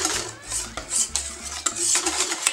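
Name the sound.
whisking hot milk into egg mixture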